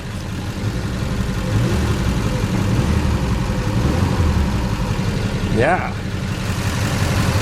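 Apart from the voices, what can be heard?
2005 Mini Cooper R50 engine running and revving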